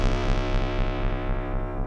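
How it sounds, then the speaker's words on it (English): A Genki Katla synthesizer holds a rich, buzzing sustained tone through an 80s-style reverb, its harmonics smeared into a lush, slightly distorted wash that pulses gently without any voice. "And this is an 80s style reverb"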